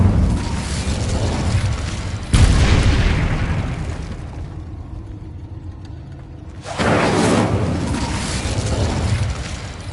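Incendio fire spell cast in Hogwarts Legacy, heavy booming whooshes of flame bursting loud and close, a lull in the middle, then a second roaring blast that sustains to the end.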